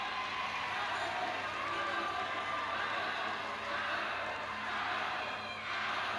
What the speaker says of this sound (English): Crowd are going wild.